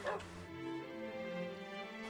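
Minecraft dogs yip and whimper briefly in a short high burst near the start, followed by a sustained electronic tone, with faint talk nearby.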